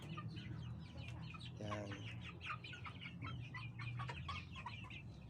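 Native Paraokan and Joloano chickens cluck in a new cage, with many soft overlapping clucks and chirps close by, a single brief crow-like call and a short spoken word from a person.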